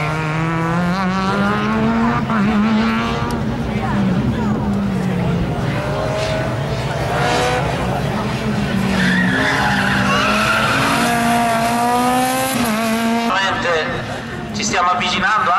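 A Renault New Clio rally car at the 2019 Rally del Salento revs hard, its engine note rising and falling while tires skid and squeal loudly nearby, with a commentator talking over it.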